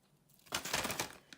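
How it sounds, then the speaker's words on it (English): Garlic bulbs dropped into a plastic bag on an allotment, a close burst of crinkling plastic and light knocks lasting under a second, with no speech. "So I'm just going to bag all of these up"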